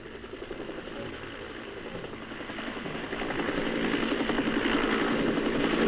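Continuous throbbing rotor chop of a military helicopter in the Vietnam War, 1968, steady and growing louder as it draws nearer.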